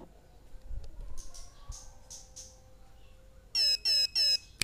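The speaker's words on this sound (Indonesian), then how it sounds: "ada bunyi pip pip pip itu tandanya sudah siap untuk take off" A Mobula7 1-2S micro brushless drone sits quietly with a few faint chirps, then gives three loud, even electronic beeps near the end to signal it is ready for takeoff.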